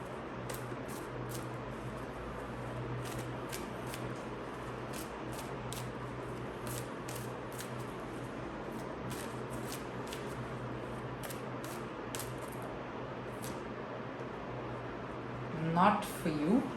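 A deck of oracle cards is shuffled close up in quick, rhythmic riffling bursts over a steady background hum, ending with a few louder handling sounds.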